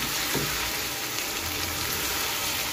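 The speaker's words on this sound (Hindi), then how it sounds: "यहाँ पे 5 मिनट मैंने इसकी भुनाई कर ली है।" Peas and potatoes fry on a high flame for an aloo matar curry, a steady close sizzle filling the whole stretch with a brief stir or clatter near the start.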